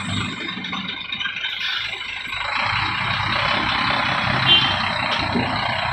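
A Scania truck carrying a 45-ton load creeps slowly downhill on the Sitinjau Lauik descent, a steady low engine drone with hissy high noise, close and continuous, no talking.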